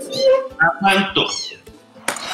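Several kittens mewing in high, thin, overlapping cries, close by, with a short sharp noise near the end.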